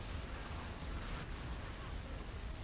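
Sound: warship guns firing in video game Modern Warships

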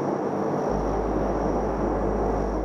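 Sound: P-3 military plane noise and vibration

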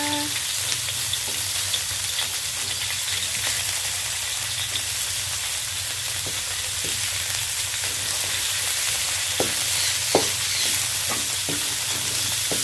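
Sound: stir-frying minced pork in a pan

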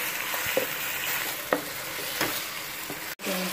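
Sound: chicken frying in a pan

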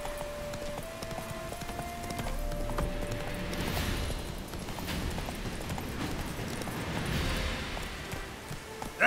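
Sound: horse Roach galloping hoofbeats in video game The Witcher 3

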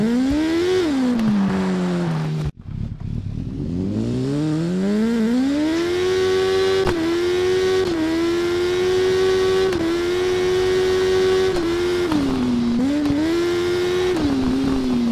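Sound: BMW motorcycle engine in TT Isle of Man video game

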